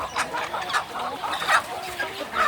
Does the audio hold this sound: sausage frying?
no